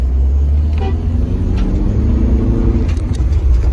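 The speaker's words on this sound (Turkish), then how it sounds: "Evet araba solladım." A car overtakes another on the road, a loud rumble of engine and road noise with a brief horn toot, heard from inside the vehicle.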